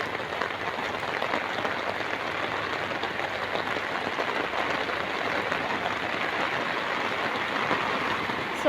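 Heavy rain pours down at a busy bus terminal, a dense, even hiss of drops on surfaces that holds steady and fairly loud from start to finish.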